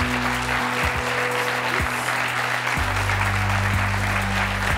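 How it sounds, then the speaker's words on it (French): A French television talk-show studio audience claps in steady, loud, dense applause from start to end, with low musical tones running beneath it. "On va applaudir."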